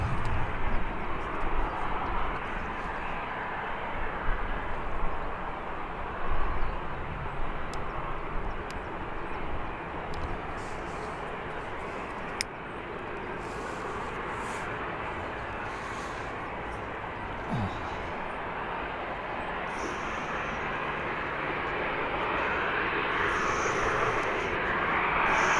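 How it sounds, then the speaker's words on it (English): Turkish Airlines Airbus A321 airliner arriving at Birmingham Airport, a steady broad jet engine roar that holds throughout and swells slightly louder toward the end, with no talk. "We also have Turkish Airlines coming in after the Lufthansa."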